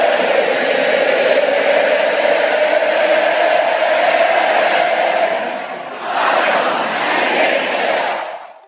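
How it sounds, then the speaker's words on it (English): Thousands of Texas A&M students yelling together at Midnight Yell in a packed stadium, a loud, sustained roar of massed voices that dips briefly and then swells again before cutting off. "where thousands of Aggies pack the stadium before the game just to practice cheering"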